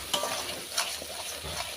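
Coriander leaves being stir-fried for a tangra fish curry, a steady sizzle in hot oil with a few scraping stirs of the spatula against the pan, close and continuous.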